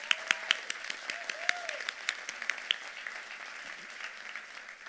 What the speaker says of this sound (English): I'd like for us to give them a hand clap right now